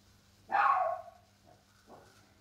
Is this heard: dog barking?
yes